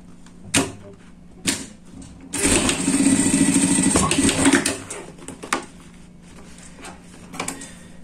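A sewing machine stitches fabric for a pet bed in a steady, fairly loud motorized run of about two seconds, with a few sharp clicks and knocks of handling before and after.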